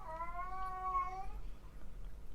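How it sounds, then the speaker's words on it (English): A pet cat gives one drawn-out, plaintive meow indoors, fairly quiet and alone, trailing off into low room noise. "oh, you hear my kitty?"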